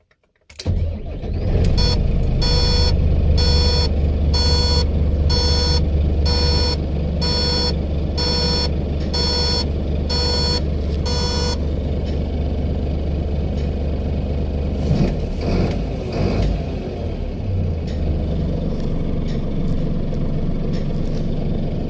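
A car engine cranks and catches with a quick burst, then idles steadily for about twenty seconds while a chime beeps rhythmically in the first half before stopping; no one speaks.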